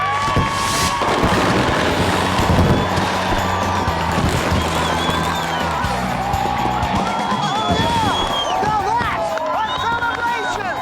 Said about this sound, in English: It was fireworks and dragons, and to see everybody is so awesome.